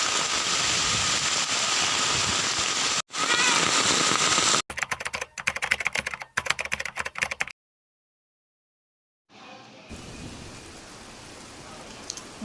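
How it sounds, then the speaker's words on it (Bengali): Heavy rain pours steadily with a loud hiss, then breaks into choppy bursts, a silent gap, and quieter rain returning at the end. "বাইরে এতটা পরিমাণে বৃষ্টি হচ্ছে বলার মতো না"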